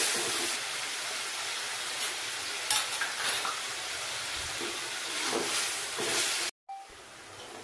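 Tomato paste and boiled peas cook in a pan for an egg gravy, with a continuous sizzle broken by repeated spoon scrapes and stirs, close and moderately loud, cutting out briefly near the end.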